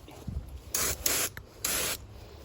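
Three short bursts of hissing aerosol from a Rust-Oleum spray can painting a 1967 Camaro, each lasting about a quarter second, close and loud with brief pauses between.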